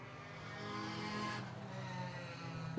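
Race cars at a Concrete Thunder event roar toward the finish line, engines growling and swelling from a distance in a brief, faint rush of track noise.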